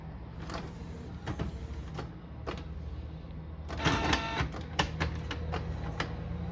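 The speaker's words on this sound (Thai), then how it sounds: "มีเสียงดึงกระดาษแล้วดึงนิดเดียวครับ ดึงได้นิดเดียว" A Canon G2010 inkjet printer with a paper-feed fault tries to pull in a sheet, giving a few faint whirring and clicking bursts, then a busier run of mechanical clatter that stops short; no voices.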